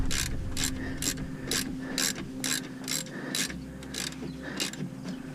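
A ratchet tightening a brake caliper bolt during a front brake pad change on an Audi A2-type car, giving about a dozen evenly spaced, crisp metallic clicks, close and moderately loud over a faint hum.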